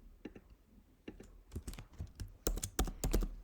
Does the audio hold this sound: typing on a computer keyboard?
yes